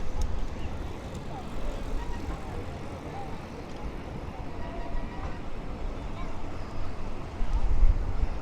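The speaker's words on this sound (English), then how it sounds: "the wind is coming right at me." Steady wind buffeting a microphone while riding through Blackpool's illuminations on a tour, a low rumbling roar that is constant and close, surging near the end.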